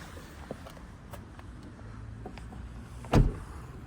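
Someone gets out of a 265-horsepower VW Golf GTI in a quiet setting: faint handling clicks and rustles lead to one solid, close thud of the car door shutting near the end.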